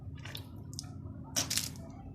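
Water swished and rinsed in the mouth during ablution (wudu), two short wet squishing bursts followed by a louder gurgling splash, faint and close.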